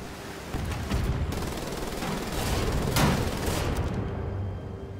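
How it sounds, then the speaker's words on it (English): Rapid gunfire in the video game Wolfenstein: The Old Blood, a dense, continuous stretch of shots and impacts that swells loud around the middle before easing off, with no talking. "Someone was shooting me from behind."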